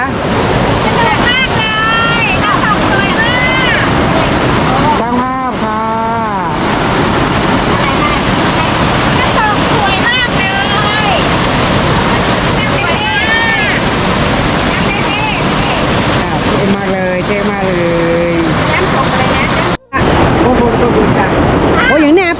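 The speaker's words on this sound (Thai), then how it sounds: "น้ำตกนะคะที่น้ำตกนะคะ" A waterfall roars in a steady, loud wash of water, with someone talking over it throughout.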